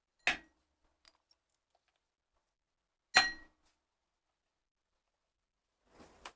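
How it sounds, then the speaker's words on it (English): Round ice cubes clink in a drinking glass in a quiet room: two crisp, distinct knocks a few seconds apart, then a softer rattle, with near silence between them. "who likes round ice cubes?"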